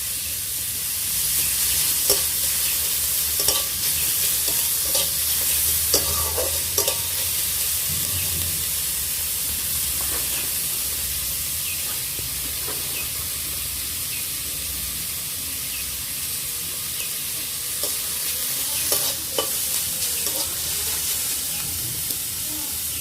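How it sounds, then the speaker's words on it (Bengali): Ginger paste sizzles steadily as it fries in a pan, with scattered scraping stirs of a spoon or spatula throughout; no one talks. "এবার দেব আদা বাটা"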